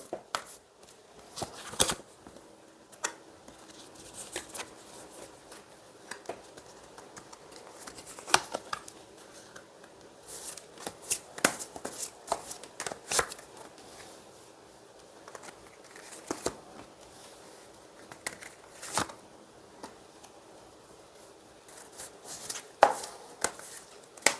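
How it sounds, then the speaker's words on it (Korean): Tarot cards being shuffled and handled, with soft crisp riffles, slides and taps that come in bursts and pauses, quiet and close, without talk. "네, 우리 4번님 카드 뽑아 볼게요"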